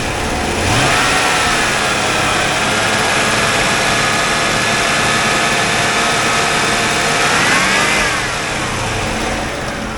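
A 1992 Chevy Corvette 5.7L LT1 V8 at a wrecking yard runs loud and close, revving up, holding a steady high drone for several seconds, then dropping back toward idle, with no talking.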